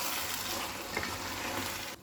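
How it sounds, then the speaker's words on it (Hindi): Masala being stirred into chicken in a hot pan for ghee roast chicken, a steady close sizzle with soft scraping of the stirring, continuous and without voices. "अभी दोनों मसाला को चिकन में हम अच्छे से मिक्स कर देंगे।"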